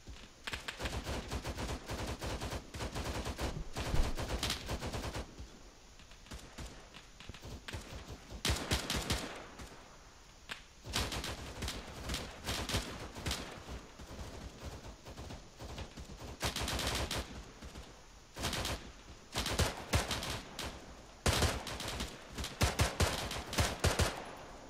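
Video game gunfire rattles in repeated bursts of loud automatic fire, some long and some short, separated by brief quieter gaps, with no voices heard.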